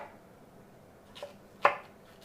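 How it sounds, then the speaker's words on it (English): Knife cutting celery lengthwise on a cutting board: a faint scrape followed by one sharp chopping tap against the board in a quiet room. "We are going to cut these pieces of celery into smaller pieces."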